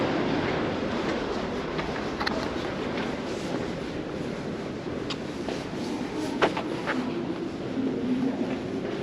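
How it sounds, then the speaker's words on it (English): A London Underground Bakerloo line train pulls into Maida Vale station with a loud, sustained rumble, rattling wheel clatter and occasional metallic clicks echoing through the platform. "Please stand behind the yellow line as the train approaches."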